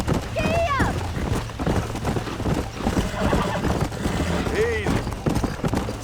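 Horse hooves clip-clopping at a steady gallop in the Red Dead Redemption video game, with short neighs and whinnies cutting through, while a voice urges the horse on over the continuous hoofbeat rhythm.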